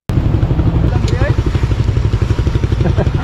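A Suzuki Raider FI motorcycle engine idles close by with a fast, rhythmic, throbbing putter, and people talk over it throughout.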